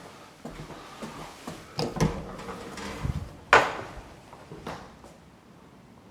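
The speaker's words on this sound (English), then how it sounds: "What's the door? The door just gone." A door bangs shut in an abandoned Liverpool hospital, one sharp knock amid quieter creaks and knocks around it in a hollow, quiet space.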